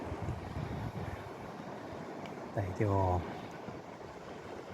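Steady wind blows along the sea shore at Magadan, a continuous broad rushing roar with waves in the background, and a voice speaks briefly midway through.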